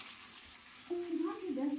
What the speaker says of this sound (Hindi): तो उसको अच्छी तरह से चिकन को हम भून लेंगे।